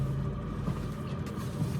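A 2013 BMW 320i F30 driving, with a low, steady rumble of engine and road noise heard from inside the cabin. No one speaks.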